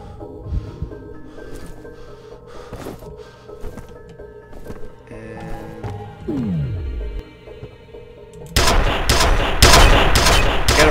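Gunfire in the first-person shooter F.E.A.R. sounds in scattered sharp bursts and single shots, with a descending whooshing effect, then a loud dense barrage of rapid shots near the end.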